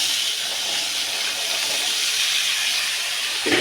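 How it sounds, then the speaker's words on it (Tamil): Boiled cowpeas tipped into a hot pan of tempering give off a steady, loud broadband sizzle that hisses continuously, with a soft thud of food landing near the end. "இப்போது நம்ம வேக வச்சு எடுத்து வச்சுருக்கிற தட்டைப்பயிரையும் இதெல்லாம் கொட்டிக்கலாம்"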